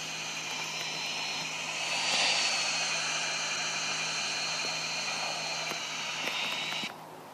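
Airplane engine in the GTA video game, a steady droning whine that swells slightly midway and holds, then cuts off abruptly near the end.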